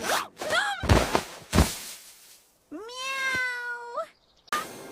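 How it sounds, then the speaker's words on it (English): An animated cartoon cat gives one long, drawn-out, rising meow, loud and up front, following a couple of quick whooshing and thumping effects and ending with a short swish. "Meow!"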